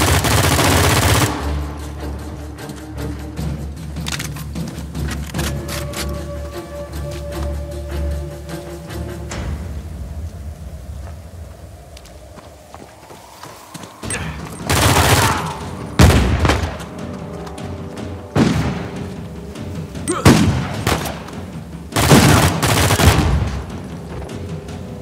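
Bursts of automatic gunfire from a gun in the video game Uncharted 4, a dense fusillade at the start, then a quieter stretch before loud sharp volleys and booming single shots return later.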